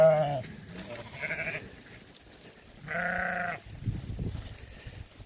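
Sheep and lambs bleat in a field, several distinct calls of varying pitch, one long loud bleat midway, spaced among quieter rustling and shuffling nearby.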